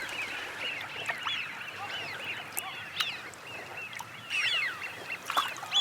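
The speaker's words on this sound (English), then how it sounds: "for these Eurasian widgeons, it's time to replenish their reserves after a long journey" Flock of Eurasian wigeons on Chilika lagoon in Odisha, a steady chorus of whistling calls with sharper bursts standing out, carried over continuous water and bird ambience at moderate distance.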